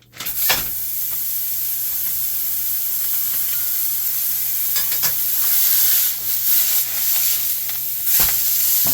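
Lean ground beef sizzling steadily in a pan for a sloppy joe dish, a loud continuous hiss with occasional stirring scrapes and clicks, close up and without talk.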